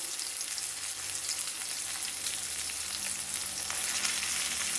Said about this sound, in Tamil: இப்போ இது வெங்காயம் நல்லா வதங்கிட்டோம் சின்ன வெங்காயம் நல்லா வாசம் வந்துருக்கு